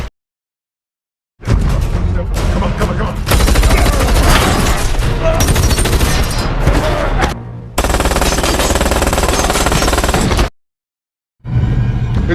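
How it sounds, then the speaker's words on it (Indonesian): Gunfire in a film scene of a robbery shootout: loud bursts of automatic fire with booming shots, broken by a few short silent gaps, no talking over it. "Tetapi setelah diberi senjata, Ballet langsung menembak rekan kerjanya itu."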